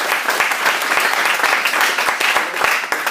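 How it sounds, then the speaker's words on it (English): Steady, dense audience applause at a business seminar, loud and sustained throughout with sharp hand claps standing out in the wash. "I wanna give him a round of applause"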